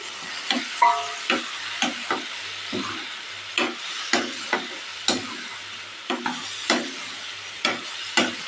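Rapid scraping and clacking of a spatula stirring ridge gourd in a frying pan, repeated strokes over a steady low sizzle.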